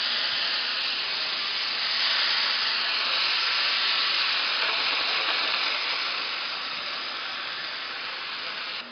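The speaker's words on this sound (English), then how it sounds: "We add a little white wine to deglaze the pan." White wine deglazing a hot pan after searing mahi mahi gives a loud, steady broadband hiss of steam and sizzle that swells briefly, then slowly eases over several seconds, with no voices.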